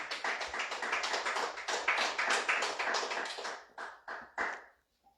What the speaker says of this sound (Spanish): Dele fuerte aplauso al Señor, hermano.